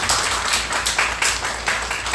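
Church congregation claps together to celebrate members' birthdays during a Sunday service, a dense, continuous patter of many hands with loose rhythmic pulses, fairly close and without speech.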